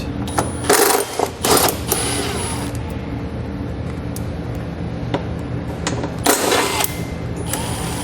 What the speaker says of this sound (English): The 2 outer ones, I'm going to be using a 10mm socket to pull it out.